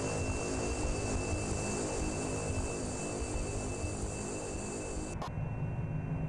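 Steady, loud propeller drone of a Cessna Skyhawk piston engine during takeoff in X-Plane 11, a dense continuous roar with a whine on top that cuts off sharply near the end, leaving quieter low rumble.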